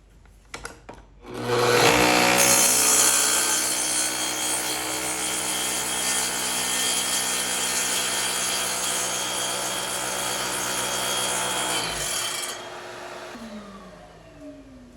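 A saw blade cuts through wood to make a splinter guard, spinning up to a loud, steady roar that holds for about ten seconds before cutting off and winding down.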